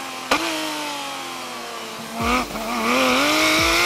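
Race car engines roar past, pitch rising and falling as they accelerate and downshift, loud and close.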